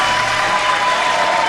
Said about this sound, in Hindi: तो लोगों ने तालियां बजाई, खूब शोर हुआ